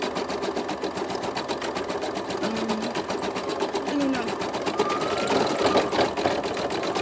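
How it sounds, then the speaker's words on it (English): An embroidery machine stitches a zipper mask in the hoop, sewing over fabric already stitched, with a fast, even needle rattle that runs throughout at close range while a person talks briefly over it. "Sometimes you'll get a little bit of a noise because you're actually stitching over part that was already stitched."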